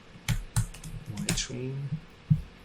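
Keys clack on a computer keyboard in several separate, fairly loud taps, irregularly spaced, alongside someone speaking.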